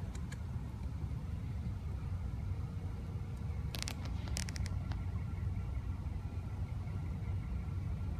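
Car engine idling nearby at night on a dark road, a steady low rumble that holds level throughout with a few brief faint clicks in the middle.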